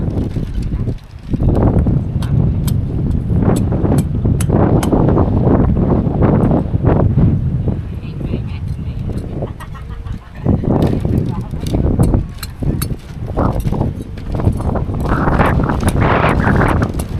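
Cold, dry wind blows outdoors near a long wooden bridge in Laos, buffeting the microphone in loud, continuous gusts while people talk throughout.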